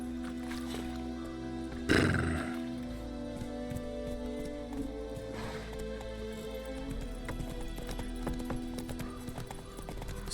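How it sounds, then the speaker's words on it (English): A horse gallops in The Witcher 3: Wild Hunt, giving a steady, moderately quiet patter of hooves with a louder thudding burst early on, set against a continuous in-game ambient backdrop. "Run, Roach"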